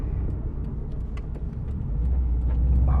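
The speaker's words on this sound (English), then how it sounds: "It's got the 2-litre EJ20. It sounds great. Exhaust has got a nice rumble to it." A Subaru Impreza WRX STI Type-RA Spec-C with a 2-litre EJ20 engine gives off a deep, steady exhaust rumble during a drive. The rumble builds slightly toward the end, heard from inside the car with no talking.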